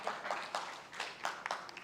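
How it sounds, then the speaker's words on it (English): An audience at a Web3 creator talk claps together, a short burst of scattered hand claps with a steady patter, fairly distant and soft. "Yes, you can clap, please."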